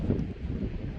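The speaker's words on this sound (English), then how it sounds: "Now can you hear the wind?" Wind blowing on a coastal hike at Mori Point overlooking the pier: a steady low rumble of wind buffeting the microphone, moderately loud and constant for about a second, no speech.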